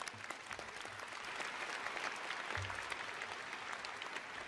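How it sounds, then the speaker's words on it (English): A crowd applauding continuously at a spring commencement ceremony, a thick wash of clapping that holds steady throughout, heard from a little distance. "Let's give him a round of applause for doing that."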